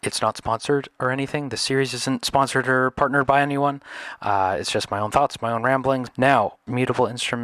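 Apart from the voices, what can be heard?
No everyday noise stands out behind the speech.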